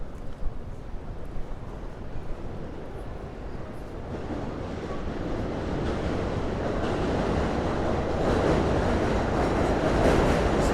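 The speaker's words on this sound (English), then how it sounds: "It's hard to talk over the subway sometimes when it's so loud like this." A loud New York City subway train roars steadily at a station, a broad rumbling wash that swells gradually and stays dense and close throughout, with no talk over it.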